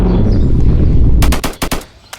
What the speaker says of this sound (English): You see how you hear how it shoots.